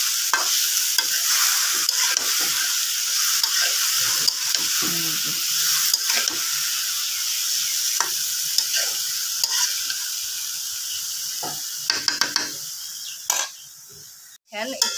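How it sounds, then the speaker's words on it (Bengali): Potato bhaji with turmeric sizzles in a frying pan while a utensil stirs it, a steady hiss with scraping strokes and light clinks up close, ending in a couple of sharper knocks. "এখন নাড়াচাড়া দিতেছি।"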